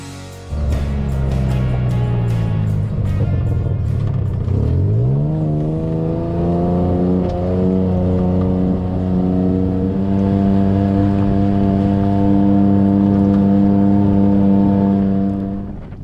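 A vehicle drives along a field tile line on a farm. Its engine whirs and climbs in pitch, then settles into a loud, steady drone that holds to the end, with no voices.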